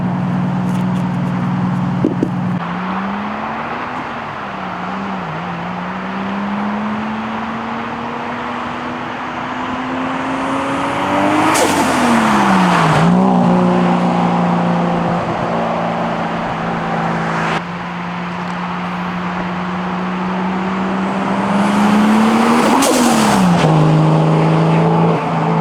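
A 1JZ-swapped Nissan 240SX S14 makes repeated flybys under load, its engine note climbing through the gears, then sweeping past loud and close twice with sharp rising and falling pitch before fading away.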